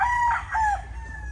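A rooster on a gamefowl farm crows once, close and loud, the call rising and then dropping into a drawn-out tail over low background noise.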